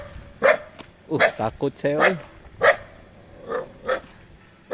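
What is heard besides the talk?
dog barking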